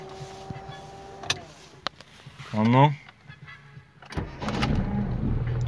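A cold ZAZ Tavria car engine cranks and catches, a short burst of starter whirring followed by the engine firing into a rough idle, close by, with a brief word spoken just before.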